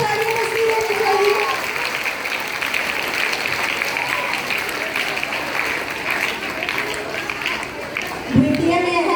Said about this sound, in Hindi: तालियां, जोरदार तालियां बजनी चाहिए।